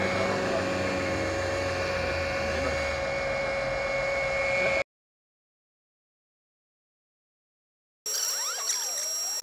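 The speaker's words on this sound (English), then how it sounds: "Then just turn on the pump." A 12 volt oil and fluid extractor pump runs with a steady electric whine and hum for about five seconds, then there is silence, and then a brief burst of mechanical noise.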